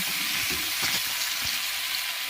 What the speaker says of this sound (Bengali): আলু ভাজা বসিয়ে দিয়েছি কড়াতে এখন আলু ভাজা হচ্ছে